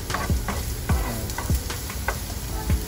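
Garlic fries in a pan that is not yet very hot, giving a soft steady sizzle. Regular scraping stirs of a utensil break through every half second or so, close up, with no voices.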